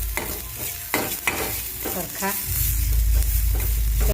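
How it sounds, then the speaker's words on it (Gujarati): Ginger and green chillies sauté in hot oil in a pan with a loud close sizzle, broken by stirring clatter and scraping that swells louder toward the end, and a voice speaks briefly. "આદું અને મરચાં સંતળાઈ જાય"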